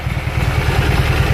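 A junkyard Briggs & Stratton opposed twin engine runs steadily up close, a loud, even low throb with a rapid clattering pulse that holds without letup from start to finish.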